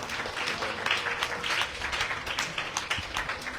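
An audience at a Bhagavata saptaha gathering applauds steadily, with crisp overlapping claps forming a dense, even ovation throughout.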